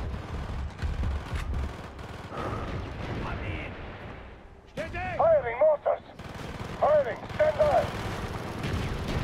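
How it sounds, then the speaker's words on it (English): Mortar blasts and gunfire ring out in the Call of Duty: Black Ops video game, a dense, rumbling barrage beneath shouting voices that break in with sharp, loud calls toward the end. "Firing mortar!"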